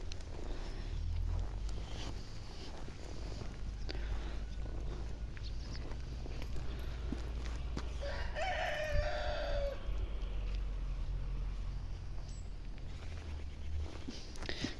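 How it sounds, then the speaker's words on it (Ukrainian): A rooster crows in the middle distance over a steady outdoor hum in the Kyiv region in mid-October, one drawn-out call rising and falling, with faint rustling around it. "Півні горло рвуть."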